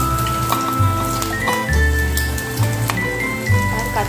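Chopped onions and green chillies frying in a pan for a beetroot fry, a steady crackling sizzle with scattered pops and spits, close and fairly loud, with a faint low hum underneath.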